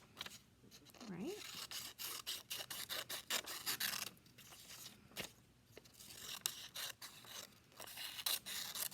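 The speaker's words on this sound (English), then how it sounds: "I'm also going to cut out these squares" Scissors snip and rasp through paper while squares are cut out, a faint, irregular run of short crisp cuts and rustles with a brief voice sound in between.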